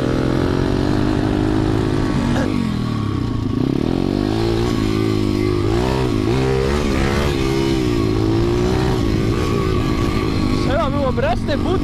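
A KXD pit bike engine runs loudly and continuously nearby, its pitch rising and falling as it revs, with a voice heard briefly over it.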